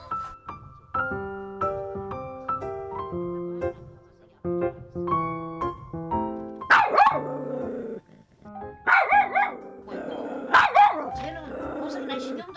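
A dog barks in several loud, close bursts, with some growling and yipping, mixed in among background music and a person speaking Korean.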